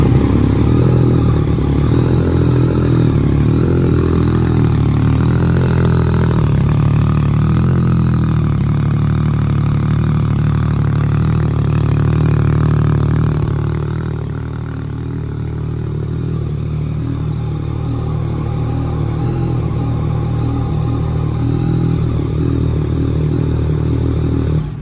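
A cold Yamaha XSR900 motorcycle engine starts and runs at a steady idle, a close mechanical rumble with light clatter that dips briefly and settles into a lower, even putter.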